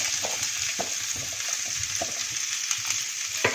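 Potato stuffing with fennel powder sizzling and being stirred in a pan over a low flame, a steady close frying hiss with intermittent soft scraping stirs throughout, no voices.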